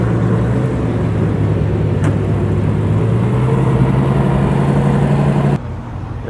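A Ford GT40 sports car engine at a New Year's car meet in Japan rumbles steadily and loud nearby, holding a deep idle-like drone before cutting off abruptly near the end.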